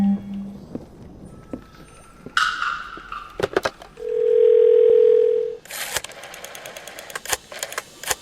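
A steady telephone dial tone sounds clearly for over a second in the video game Phantasmat, framed by clicks, a short beep and game sounds before and after.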